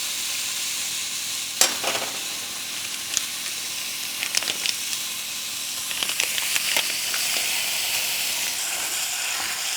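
Ground beef sizzles steadily in a hot pan, a continuous bright hiss broken by occasional sharper pops and crackles, close and fairly loud with no talking.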